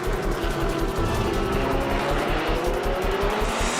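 Race cars at Le Mans, a Peugeot and an Audi battling for position, roar loudly and continuously with a dense, pulsing engine drone and hints of tire squeal, heard alone without voices.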